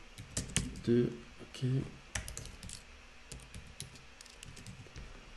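Keys on a computer keyboard are tapped in short quiet bursts of clicks, with a person speaking softly in French between and over the typing.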